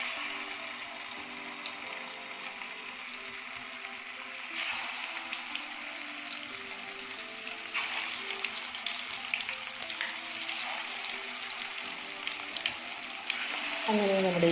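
Chicken pieces frying in oil in a pan make a steady, close sizzle throughout, growing slightly busier over time, with some stirring noise and a sharper clatter at the very end.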